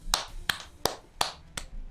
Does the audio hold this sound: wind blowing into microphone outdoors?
no